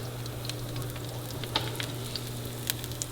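Garlic fries in oil with a light, steady sizzle and scattered sharp pops and crackles over a low hum, close by and quiet, with no talking.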